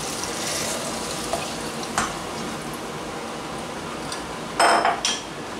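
Boxed broth poured into seafood rice in a pressure cooker, a continuous hissing sizzle with a few brief metallic clinks of utensils against the pot and a louder clatter near the end.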